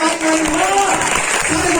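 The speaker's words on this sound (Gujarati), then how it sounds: "તાળીઓથી વધારો" Audience clapping at a Gujarati satsang honouring Bajrangdas Bapa, a dense continuous wash of applause filling the short stretch, with a sustained tonal drone or voice running underneath.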